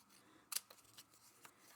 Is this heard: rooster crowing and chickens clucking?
no